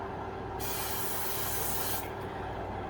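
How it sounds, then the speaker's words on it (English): A butter cooking spray hisses onto a pan being prepped for French toast in one steady burst of about one and a half seconds, close and clear against a quiet room. "I'm just using a butter spray just because"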